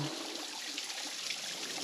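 Steady rushing and trickling water from a waterfall on the Ouachita Trail between Queen Wilhelmina and Foran Gap, heard up close as a continuous broadband wash with no voices.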